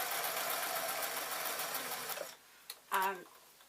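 A sewing machine runs in a steady, rapid mechanical whir up close, then stops, followed by a brief spoken word.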